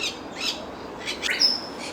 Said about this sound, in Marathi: अनेक प्रकारचे पक्षी इथे ठेवलेले आहेत